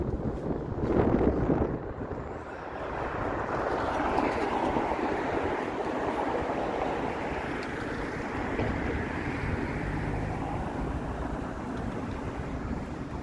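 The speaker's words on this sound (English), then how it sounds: "Yeah, it's quite windy." Steady wind blowing and buffeting the microphone on a cold evening in downtown Toronto, a continuous low rumble with a gust near the start, no voices.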